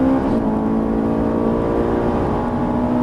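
Under full throttle on a race circuit, a Ferrari 458 engine drones loud and close, a steady strained tone that holds and rises slightly over a few seconds.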